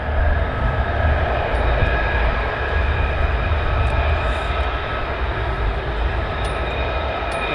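An F-35 fighter jet takes off at RAF Lakenheath, a loud, sustained roar of jet engine thrust that holds steady throughout, broad and rumbling with a high whine layered on top.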